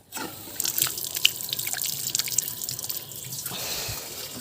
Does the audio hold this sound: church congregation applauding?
no